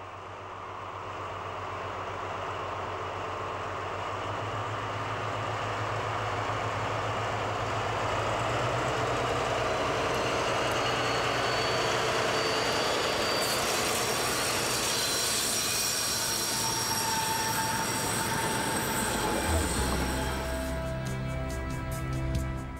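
A Reichsbahn class 118 (V180) diesel locomotive, museum engine 118-770, pulls out of Annaberg-Buchholz station in the Erzgebirge, its engine droning and rising as it accelerates, rumbling loud and close before the pitch shifts and the sound eases away.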